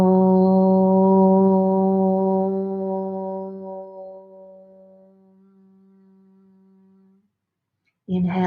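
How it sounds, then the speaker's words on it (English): A single sustained Om chant during a guided meditation, a steady low drone with rich harmonics, loud at first and then slowly fading over about seven seconds before silence and a brief new sound. "we're going to chant the sound Om."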